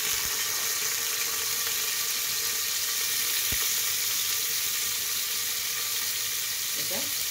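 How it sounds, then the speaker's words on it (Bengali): Onions frying in hot mustard oil and ghee with cardamom and cinnamon, a steady, dense sizzle that holds evenly throughout, with a brief clatter near the end. "এটা পেঁয়াজটা সুন্দর করে ভেজে নেব।"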